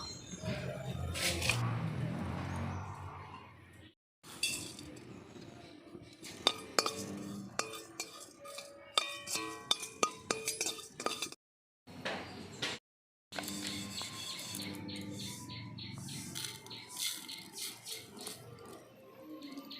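Panch phoron spices are stirred while dry-frying in a pan for a mango pickle. Sharp metal clinks of a spoon against the pan repeat, with scraping and shifting spices over faint background sound and short pauses.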